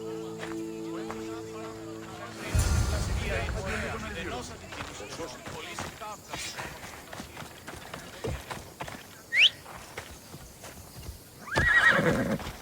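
Horse in Assassin's Creed Odyssey game galloping with rapid, rhythmic hoof clip-clops, punctuated by a loud whinny and a second neigh near the end, starting after a short stretch of speech and music.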